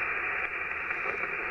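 Crowded twenty meter amateur band static from a receiver: a dense, constant hiss and crackle of splattering signals, steady and loud with no breaks and no voices over it.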